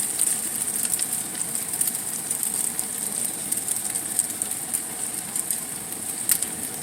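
Salmon croquettes with onion frying in a pan give a steady, close hiss and crackle of hot oil that holds level throughout, with a few brighter pops and no voices.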